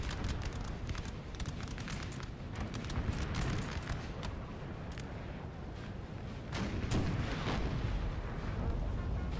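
Cannon and musket fire from a Napoleonic-era battle in Napoleon Total War, a dense continuous roar of booms and crackling volleys that swells and fades throughout, with no voices.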